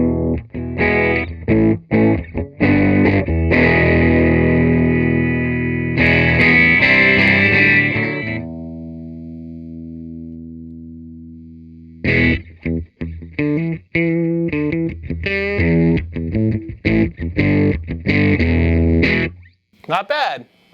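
A 1973 Peavey Classic 212 guitar amplifier is played with treble maxed: an electric guitar strums chords and picks notes, bright and distorted, with a long ringing sustain in the middle, loud and close, with no talk.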